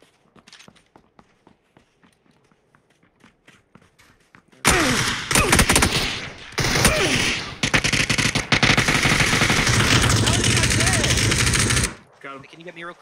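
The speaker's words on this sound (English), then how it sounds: "They could be shooting at someone in..." Gunfire in an online shooter: sparse quiet clicks and footsteps give way to a long, loud, continuous burst of automatic fire lasting about seven seconds before cutting off abruptly, with voices talking.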